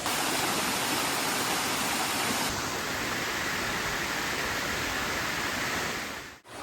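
A rushing mountain stream pours steadily down rapids over rocks, a broad, constant roar of water close by with no other sounds.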